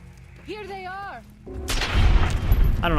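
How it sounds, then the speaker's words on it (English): Gunfire in Fallout: New Vegas (Honest Hearts), a loud burst of shots and booming reports after a stretch of quieter game sound with a rising synthetic tone, dense and sustained to the end. "Where are these gunshots coming from?"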